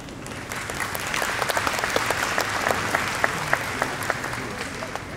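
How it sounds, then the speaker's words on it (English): Graduates at a university congregation ceremony break into sustained applause, a dense, loud wash of clapping with scattered sharp claps and faint voices mixed in. "So let's give ourselves a big round of applause."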